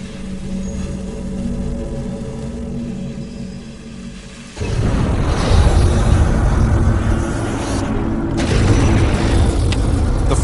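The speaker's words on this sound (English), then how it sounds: "The flamethrower fires burning gasoline over 60 feet and instantly incinerates the target Richard has set up." A flamethrower firing burning gasoline over a long distance at a hay bale target, a loud roaring whoosh that surges up midway and stays heavy and rumbling to the end, with no talk.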